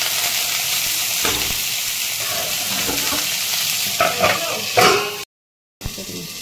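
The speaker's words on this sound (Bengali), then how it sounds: "আমি নুন দিচ্ছি, দিয়ে চাপা দিয়ে দেবো, আস্তে আস্তে ভেজে নেব।" Cauliflower pieces frying in a pan, salted and covered, give a steady close sizzle with stirring scrapes and brief louder bursts, then a short silent gap.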